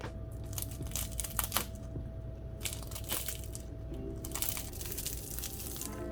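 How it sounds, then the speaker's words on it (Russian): Close, dry crunching and crackling of hot, freshly baked samsa pastry straight from the oven, irregular crisp bursts over a steady background hum. "Слышите этот хруст?"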